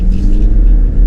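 A 2025 Toyota Crown Signia XLE AWD accelerates back up to speed, its engine rumbling loud and steady inside the cabin.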